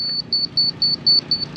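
A high electronic beep from a level repeating in short, evenly spaced pulses, close and clear with no talking, during house-building formwork.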